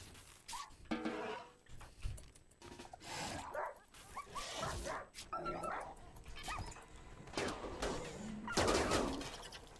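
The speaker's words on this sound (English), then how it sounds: "Dog is getting attacked." A dog barks, yips and whimpers in distress while under attack in RimWorld. The cries are irregular and mid-distance, with game noise and a voice talking over them.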